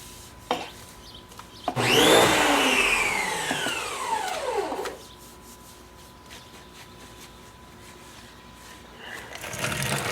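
A power washer rinses a Jeep tire and wheel in a loud spray burst of about three seconds with a whining pitch that sweeps downward, then drops to a quieter background hiss.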